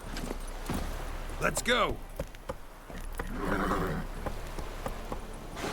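The horse Roach from The Witcher 3 whinnies and its hooves clop along. The steps and snorts are close, and someone talks over them.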